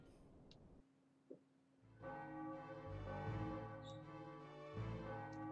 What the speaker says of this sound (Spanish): Tocan las campanadas